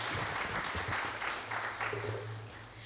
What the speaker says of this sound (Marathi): त्यांच्यासाठी पण आपण टाळ्या वाजूया.